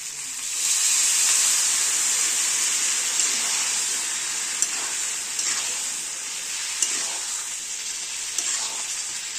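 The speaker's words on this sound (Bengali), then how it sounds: "গরম জলটা এই মাংসের মধ্যে দিয়ে দেবো।" Hot water hits a simmering chicken and potato curry, setting off a loud, steady hiss of sizzling and bubbling that lasts throughout, with faint clinks now and then.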